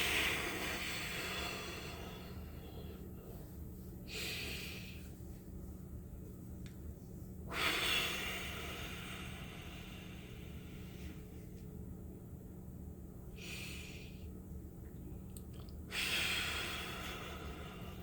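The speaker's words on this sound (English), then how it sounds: "Take a few deep breaths with me." Slow, deep breaths in a quiet room, with a few audible inhales and exhales spaced several seconds apart over a low steady hum.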